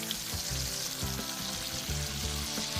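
A whole pack of bacon sizzles and crackles steadily in a pan, fried in batches until crisp, a continuous moderate hiss with small pops and no talking.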